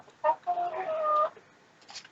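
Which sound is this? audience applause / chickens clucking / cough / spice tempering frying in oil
chickens clucking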